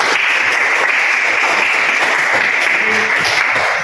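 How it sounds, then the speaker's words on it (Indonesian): A classroom of students applauding together during a teacher's practical lesson. Continuous, even, dense clapping fills the room throughout, without talk. "Tepuk tangan dulu untuk kita semua"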